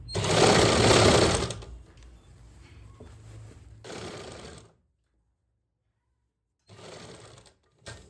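A sewing machine stitches a sleeve onto a suit in short bursts, a loud rapid run followed by a softer stretch, then silence before a brief final burst.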